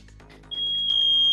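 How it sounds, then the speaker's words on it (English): A smoke alarm with a failing battery gives a single shrill, steady high-pitched tone that starts abruptly over faint background sound and holds to the end. "Smoke alarm. Apparently Battery's starting to go on it."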